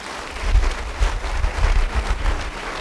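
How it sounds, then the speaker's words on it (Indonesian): A church congregation applauding during a sermon, a dense wash of clapping that swells in uneven waves with low thumps, fairly loud and without speech. "Yang mau beri tepuk tangan bagi dia."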